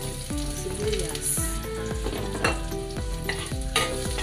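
Chopped onions sizzling in hot oil in a pan while being stirred, a loud, steady crackle with scraping spoon strokes, cooked for Filipino adobong sitaw.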